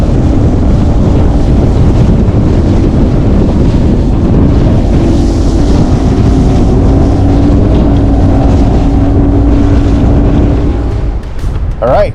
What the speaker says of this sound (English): trying to shelter you guys from the wind. It is nasty out. It's gusting more than 40.